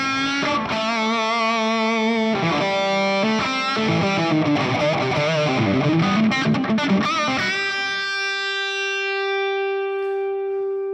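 A high-gain electric guitar through a Fractal modeler plays a heavily distorted chugging riff, then rings out on a sustained chord that slowly fades; loud, close, with no talking.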